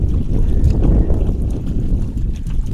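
A boat on a Sundarbans river is pushed and dragged over mud, giving a close, continuous low rumbling scrape with some wind buffeting the microphone.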